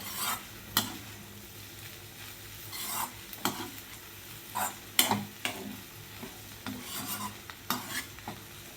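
Egg bhurji with chopped coriander being stirred in a pan, a low sizzle punctuated by irregular scraping knocks of the spoon against the pan, close and without talk.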